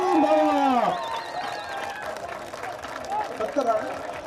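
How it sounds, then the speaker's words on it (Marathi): Spectators at a local cricket tournament semi-final clap in a steady wash beneath a loud commentator's voice over a PA, with a brief whistle-like tone partway through. "जरा टाळ्या जरा कमी करा मित्रांनो"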